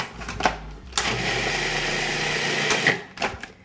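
A blender whirs for a couple of seconds mixing agave syrup and coconut oil for a raw coconut cake, starting and stopping abruptly, loud and close.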